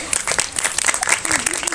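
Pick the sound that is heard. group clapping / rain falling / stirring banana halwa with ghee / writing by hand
group clapping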